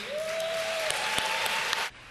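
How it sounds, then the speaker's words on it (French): Sustained, steady audience applause at an arts awards ceremony in Montreal, a dense even wash of clapping that stops abruptly near the end; a faint tone runs faintly beneath. "les applaudissements ont surgi au sein du public"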